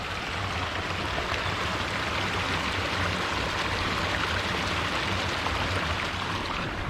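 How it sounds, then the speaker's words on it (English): Steady rushing water pours out of a full mountain lake's outlet, a continuous broadband flow close to the listener with no talk over it. "this is the outlet. It's flowing really good. I mean, it is just pulling water out of here."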